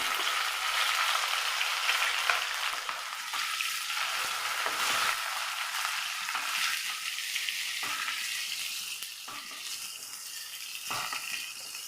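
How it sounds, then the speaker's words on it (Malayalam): Garlic, ginger and curry leaves fry in a pan with a steady, loud broadband sizzle, with occasional stirring scrapes and no talking. "ഇനി ഇതിലേക്ക് നമ്മൾ വെളുത്തുള്ളി ഇഞ്ചി അതിനോടൊപ്പം തന്നെ കറിവേപ്പില"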